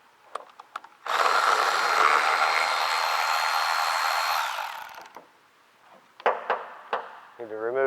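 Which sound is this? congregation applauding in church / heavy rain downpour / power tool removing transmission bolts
power tool removing transmission bolts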